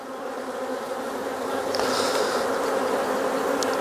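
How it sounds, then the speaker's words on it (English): A dense, steady buzz of many honey bees at an open hive during inspection fills the air close by, droning continuously without pause. "you start to find the bees boil out from between the seams of these frames"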